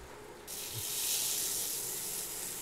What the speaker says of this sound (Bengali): ভেজে নিচ্ছি সরিষার তেলে দিয়েছি